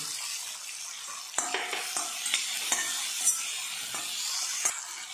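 Capsicum and curry leaves are stirred in a pan, with a steady soft sizzle of frying and a spoon scraping the pan in a few sharp, irregular strokes, close and alone with no talk.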